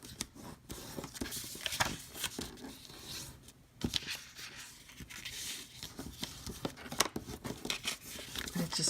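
Paper for an envelope made on an envelope punch board is folded and creased up close, giving irregular crinkles, rustles and sharp creasing snaps with brief pauses.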